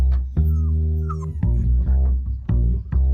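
A dog whimpers and yips in short, tonal whines, repeated several times in uneven bursts close by, with no talk.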